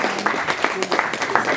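Church congregation applauding during a worship service, with a dense patter of clapping across the short span and a voice mixed in underneath.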